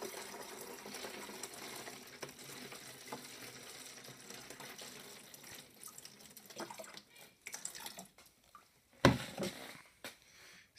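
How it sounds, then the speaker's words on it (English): Water trickles and pours into a container for a homemade Halloween light, a soft continuous splashing that is fairly faint and close, ending with a sharp knock and a few louder splashes. "put a bit more water in."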